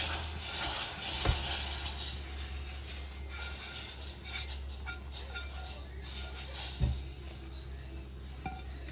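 Dark gumbo roux stirred into a pot of simmering broth on a stovetop, a steady sizzling hiss with scraping spoon strokes and an occasional clink against the pot, continuous and close.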